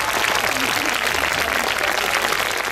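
An audience applauds at a Lipizzaner riding demonstration held for a university faculty's 70th anniversary, with dense, steady clapping that fills the whole moment at an even level.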